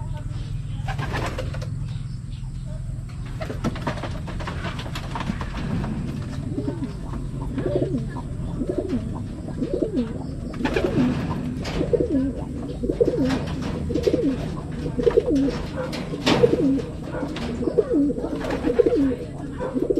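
Domestic racing pigeons coo in a steady chorus of soft, throaty burbles, nearby and continuous, with occasional wing rustles and faint background noise.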